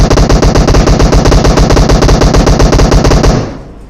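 Rapid automatic gunfire from the mobile battle royale game PUBG Mobile, a loud, continuous burst of fast repeating shots that runs for over three seconds and then cuts off abruptly into near silence.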